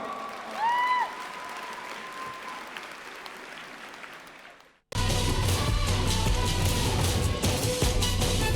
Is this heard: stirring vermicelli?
no